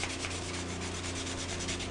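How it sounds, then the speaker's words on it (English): Sandpaper rubs steadily over the plastic shell of an Xbox controller to smooth out small scratches and scuffs, a continuous close abrasive scraping with a faint even rhythm and no talking. "I sanded completely over it, and now I can just continue to sanding the rest of the controller"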